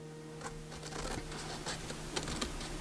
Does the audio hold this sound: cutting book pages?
yes